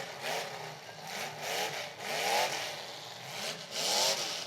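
A race car engine revs hard at high RPM, a rising and falling wail repeating in surges, heard at moderate distance over crowd noise.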